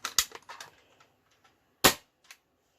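A Dart Zone Max Outlaw foam dart blaster fires one sharp, loud crack, with a short cluster of clicks and clatter before it and a faint click after.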